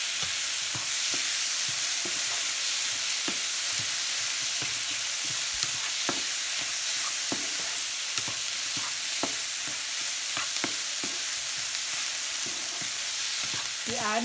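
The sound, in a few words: cooked goat brain being stir-fried in a pan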